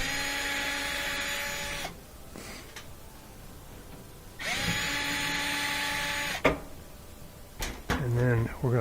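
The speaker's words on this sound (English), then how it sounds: "I'm going to take out these two screws." A power driver whirs in two sustained bursts, backing two screws out of a gas dryer's panel, with brief clicks and handling noise between and after.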